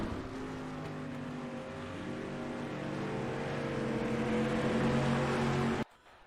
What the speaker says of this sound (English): Awesome racing out of these guys here for the Dirt Street Stocks.